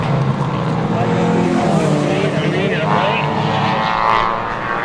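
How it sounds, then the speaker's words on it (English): Race cars circling a motorsport circuit, engines droning loudly with tire screech and a whining pass rising then fading, under a commentator's continuous talk. "We hear a lot of screeching and they're going around the track there"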